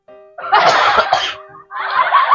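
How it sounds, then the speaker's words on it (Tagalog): One person coughs loudly a couple of times, close to the microphone, in a short harsh burst followed by another rough cough after a brief pause. "wait lang, ubo lang ako"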